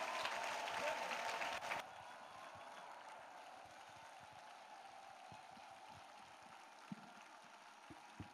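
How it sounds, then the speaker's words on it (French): Congregation at a French-speaking church prayer gathering clapping hands in offering to Jesus Christ, a dense burst of applause for under two seconds that then drops to a low room murmur. "Clap offering to Jesus Christ."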